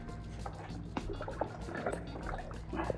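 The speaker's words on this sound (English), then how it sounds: "Give it a rinse now." Water runs and splashes over an engine part from a Toyota Glanza during rinsing, a close, steady trickle with small drips and spatters.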